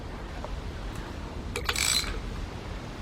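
A hand ratchet backs a bolt out of a Chevy Equinox engine during a head gasket and timing chain rebuild, giving a short run of quick metallic clicks over a steady shop hum, with no talking.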